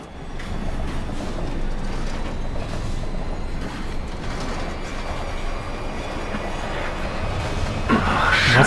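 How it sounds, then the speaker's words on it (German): A subway train in the video game Wolfenstein 2: The New Colossus starts up with a steady, loud rumbling roar and rattling wheels, building slightly with a metallic squeal and clatter near the end. "Zug starten, Level verlassen"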